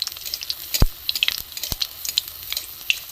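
Hot oil sizzling over frying pitha in a pan, a soft steady crackle with scattered pops and a couple of sharp splashes, close by.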